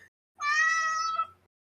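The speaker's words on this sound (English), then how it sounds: "That's somebody's cat, or is that a video?" A single cat meow played from a soundboard, one clear drawn-out call about a second long, loud and isolated against near silence.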